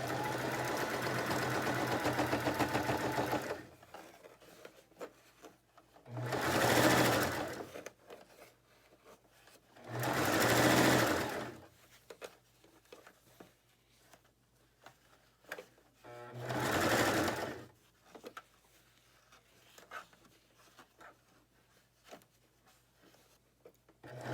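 A sewing machine stitches a fabric scrub hat in several separate bursts of a few seconds each, a fast whirring run broken by quiet handling pauses, close and clear.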